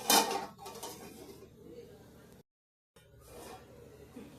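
Metal clinks and scrapes of a spoon stirring fish curry in a cooking pot, loudest at the start, with a brief silent gap before the stirring resumes.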